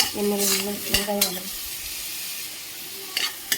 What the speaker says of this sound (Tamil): இது பொடிஞ்சோடனே வெங்காயம் போட்டுடலாம்.